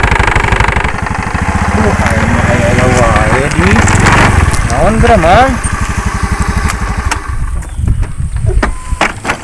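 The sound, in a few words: motorcycle engine idling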